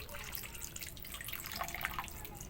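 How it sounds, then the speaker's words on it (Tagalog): A little water poured into a pot of whole chicken cooking with garlic, pineapple and lemongrass, a bright continuous splashing trickle with small dripping plinks, close and steady throughout, no talking. "Lalagyan pa natin ng konting tubig oh."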